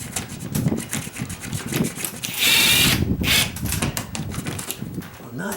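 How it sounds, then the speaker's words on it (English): Power drill boring through a plywood exterior wall with two layers of plywood, a sustained whining burst of about a second near the middle amid handling noise and background sound. "There, my drill bit's all the way through."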